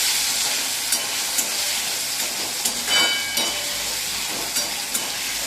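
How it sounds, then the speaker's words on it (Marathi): Peanuts roast in a pan, a steady soft sizzle with scattered light crackles and stirring scrapes, close by and alone. "त्याच्यामध्ये शेंगदाणे घालायचे ते शेंगदाणे पण छान परतवायचे"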